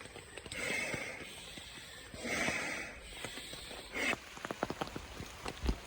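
Rain falling without pause in a dark forest at a night camp, soft hissing patter with swelling gusts and a run of close drops and taps toward the end, no talking.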